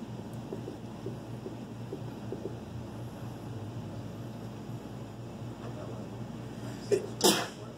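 A single sharp sneeze near the end, after several seconds of quiet math lecture-room background with faint murmuring.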